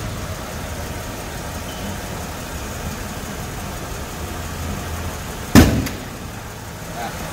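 An idling car engine, after a half engine overhaul and with the hood open, hums steadily and quietly with a low even rumble, broken by one sharp loud clunk near the end.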